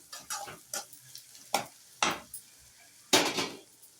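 Tomatoes and turmeric frying with onions for poha, with a quiet sizzle under several distinct scraping spoon strokes and clinks against the pan, spaced irregularly.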